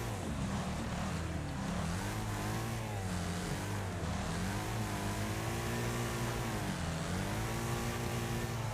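A car engine in the Wreckfest Mobile racing game drones loudly and continuously, its pitch swelling and dipping repeatedly as it revs through gears.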